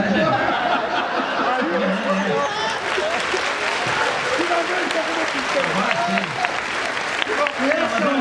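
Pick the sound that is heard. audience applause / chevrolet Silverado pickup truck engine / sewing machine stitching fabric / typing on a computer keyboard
audience applause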